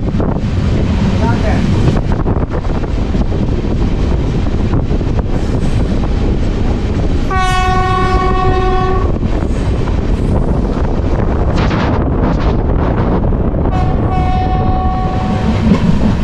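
Passenger train on the Tirunelveli to Tambaram line rumbling along the rails with heavy wind buffeting the microphone, and two loud horn blasts partway through and near the end.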